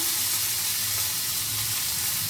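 Tomatoes frying in hot mustard oil with dried chilli and five-spice seeds, giving a loud, continuous close sizzle with a steady hiss and no talking.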